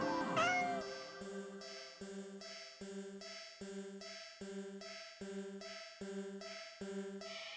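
A cat in a video game gives a brief meow at the start, followed by a steady, repeating, tonal, purr-like pattern at moderate loudness, with no talking.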